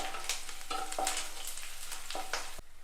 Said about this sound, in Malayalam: ഇഞ്ചിയും വെളുത്തുള്ളിയും പച്ചമുളകൊക്കെ വഴന്നിട്ടുണ്ട്. ഇനി നമുക്കിതിലേക്കൊരല്പം കറിവേപ്പില ഇട്ട് കൊടുക്കാം.